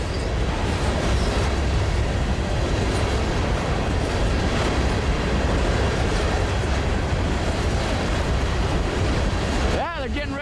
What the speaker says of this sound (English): just a sea of all the same cars, unit train